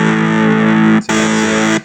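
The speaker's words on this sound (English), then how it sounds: "So that's a classic Boss DS1 sound there" Electric guitar through a Boss DS1-style distortion on a Digitech RP-155 multi-effects unit, two loud sustained distorted chords, the first held about a second, then a brief gap and a second ringing chord.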